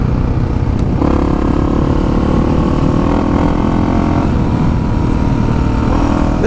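A 1985 Honda XR350R dirt bike engine drones loud and steady while riding a desert trail in Anza Borrego, a continuous close engine note with small throttle swells and no talk.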